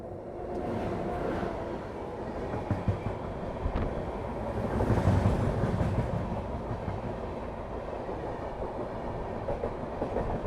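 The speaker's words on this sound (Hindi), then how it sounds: "डिब्रूगढ़ राजधानी है ये तो" Dibrugarh Rajdhani Express passing on rails beside another train in India, a continuous rumbling roar with wheel clatter that swells midway and stays steady, no talk.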